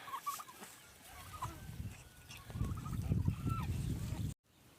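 Domestic ducks, turkeys and other poultry cluck and call around an outdoor yard in western Ukraine, with a low rumbling underneath and a few brief quiet gaps; the sound cuts off sharply near the end.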